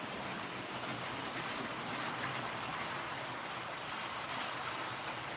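A model train runs along its track in steady, continuous rumbling and clattering, heard close and fairly quiet with no voices.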